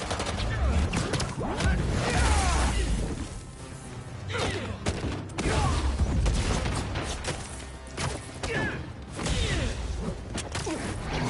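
Bursts of video-game gunfire in Spider-Man 2 crackle in loud volleys mixed with whooshes and crashing impacts, rising and falling in waves over about eleven seconds.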